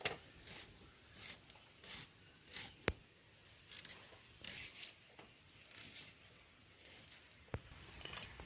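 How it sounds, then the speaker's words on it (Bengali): Coarse chunks of onion being cut on a board with a knife, giving a faint, regular series of soft crunching chops separated by short pauses, plus two sharp clicks. "পেঁয়াজটা আমি একটু মোটা মোটা করেই কাটছি"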